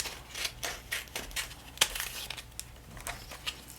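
Scissors snipping a strip of dates from a paper planner sheet, a quick string of crisp cuts and paper rustles with one sharp snap, close and fairly quiet, with no talking.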